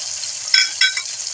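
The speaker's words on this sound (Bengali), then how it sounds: "এটাকে ভালো করে ভেজে নেব" Vegetarian potato paratha filling fries in a hot pan with a continuous sizzle, broken by a couple of brief stirring scrapes close by.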